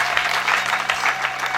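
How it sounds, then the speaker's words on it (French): A church congregation in Ndola claps together, a brief burst of lively, rhythmic applause with a steady hum beneath it, loud and close throughout. "Là, nous avons acclamé pour nous-mêmes."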